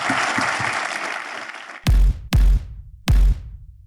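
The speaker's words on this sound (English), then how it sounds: "Everyone give a big round of applause to Brian O'Kelly." Applause for Brian O'Kelley at a podcast interview's close: a brief wash of crowd clapping that cuts off, followed by three loud, booming thuds spaced evenly apart.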